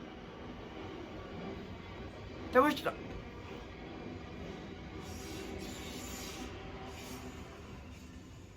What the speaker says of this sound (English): Two trains in the space of like 30 seconds.